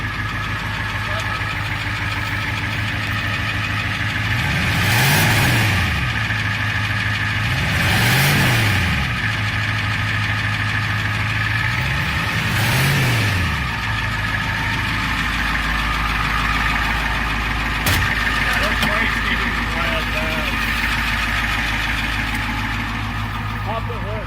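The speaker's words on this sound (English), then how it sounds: "Beau, rev it a bit." Diesel engine of a 1990 Ford F250 pickup with a 7.3 litre engine and four-wheel drive, idling with a steady knocking rumble and revved three times in even bursts, each rising and falling, close by at an auction lot.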